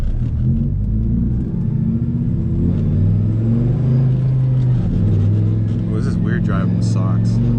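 Turbocharged Viper with a fender dump exhaust accelerates in a loud, droning engine note heard from inside the car, rising in pitch with a rattling buzz toward the end.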